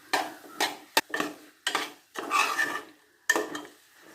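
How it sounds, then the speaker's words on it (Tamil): Gooseberry pickle being stirred with ground spice powder in a pan, several separate scraping strokes of a spoon against the vessel with one sharp knock, close and fairly quiet, no voices. "அரைச்ச பொடியை சேர்த்து பொடியை சேர்த்து நல்லா கிண்டி விட்டுக்கணும்"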